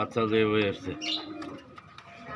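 A homing pigeon at a pigeon farm lets out a single close, throaty coo at the start, followed by softer bird sounds as people talk nearby.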